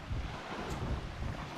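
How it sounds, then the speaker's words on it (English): Waves wash in along the shore of Lake Geneva on an October hike, a soft continuous surge heavily mixed with wind buffeting the microphone. "Cool, the way the waves are coming in."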